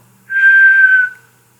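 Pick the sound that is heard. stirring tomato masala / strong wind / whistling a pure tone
whistling a pure tone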